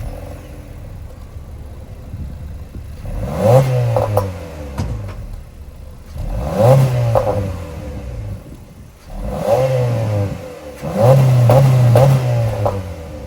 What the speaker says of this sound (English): let's fire up this 2-liter naturally aspirated 4-cylinder